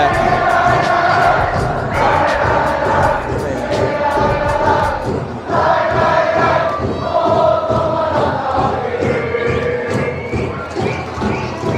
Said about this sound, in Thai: เดี๋ยวให้มาดูกองเชียร์ฝั่งโตเกียวเวอร์ดี้